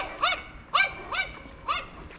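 Inside a Honda Pilot, several dogs let out four short, evenly spaced barks or yips. They are moderately close and heard over a low cabin background.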